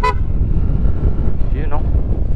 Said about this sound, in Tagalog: Pogi naman ng busina niyan.